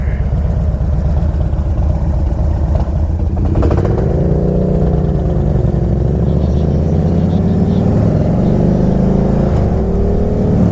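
A Harley touring motorcycle engine idles and runs with a deep, steady rumble, close and loud, its pitch shifting slightly as it revs.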